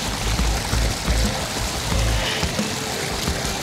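Water from a natural spring pours and gurgles steadily at close range during a rainy moto camping trip in Natividad, Pangasinan, a dense continuous rush with low churning.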